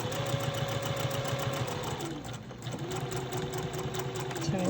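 A sewing machine stitches a small mini charm pack quilting project, running in a fast steady whir close by, with a brief slowdown midway before the motor picks up again.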